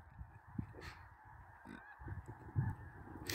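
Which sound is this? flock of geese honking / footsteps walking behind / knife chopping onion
flock of geese honking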